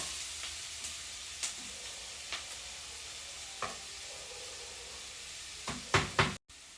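Crushed ginger and garlic fry in a pan with a soft, steady sizzle, punctuated by scattered light knocks and scrapes of a utensil, growing busier near the end.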